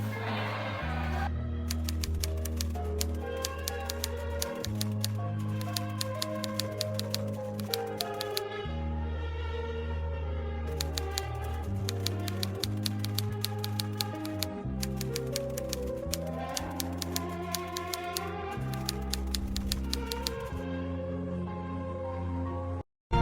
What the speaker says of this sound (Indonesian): saya tolong ketikkan naskah ini